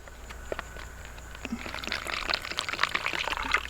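Cold water poured from a US military canteen into the opened bottom of a Canadian MRE drink pouch, a light splashing trickle that builds in the second half, close up with no talking.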